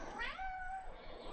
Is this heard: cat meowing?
yes